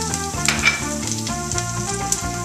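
Shallot, garlic and parsley sizzling in hot butter, a loud, close, steady frying hiss with a few faint stirring knocks and tonal background music running underneath.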